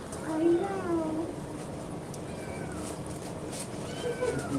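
A cat gives a few soft, drawn-out meows amid a noisy, bustling background, faint and intermittent rather than close.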